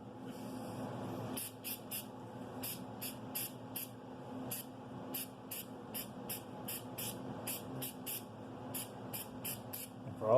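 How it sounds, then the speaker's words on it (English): Silicone lubricant sprayed from an aerosol can onto a firearm during cleaning: about twenty short, sharp hissing bursts in an uneven rhythm, close and fairly quiet over a low background hum. "this is the first time I've sprayed any silicone lubricant on any of my firearms"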